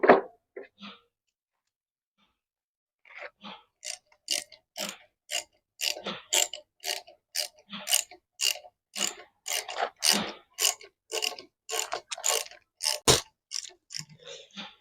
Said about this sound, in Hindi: अब वेट को रिंग पाने से टाइट कर देंगे इसको।